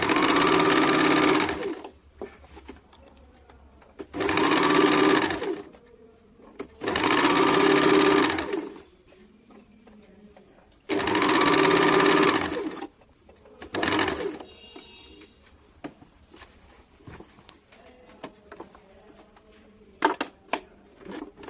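A sewing machine runs in several loud, steady bursts of a few seconds each, stitching both side seams of a deep-neck kurti, with quiet pauses between runs and a shorter burst near the end.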